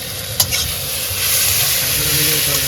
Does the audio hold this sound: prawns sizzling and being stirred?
yes